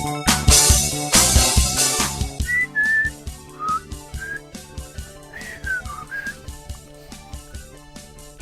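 A person whistles a short tune of sliding, wavering notes in two phrases, fairly close and clear, following a burst of loud music-like noise at the start with no talk.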